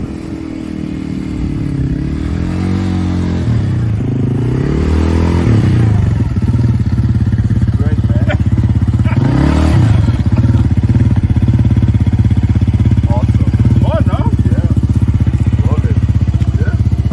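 A quad ATV engine heard while riding, a loud close drone that rises and falls in pitch as it revs and accelerates, with some clatter and scraping over the steady engine noise.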